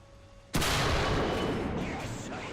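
A single heavy tank cannon shot from War Thunder cracks out suddenly and loudly, followed by a long, rumbling decay of battlefield noise with no voices.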